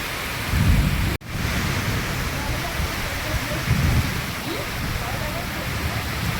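Heavy rain pours in a steady loud hiss over open land, with deep thunder rumbling up close at the start and again midway, a brief dropout cutting the noise once.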